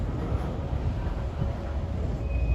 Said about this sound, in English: And this train with the DPU is still working here in the yard.